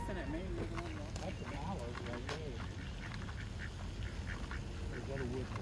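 Ducks at Chilhowee Park in East Knoxville, Tennessee quack repeatedly, with nasal calls coming close and in bursts while people talk nearby.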